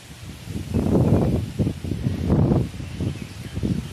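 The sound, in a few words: wind rustling leaves on rooftop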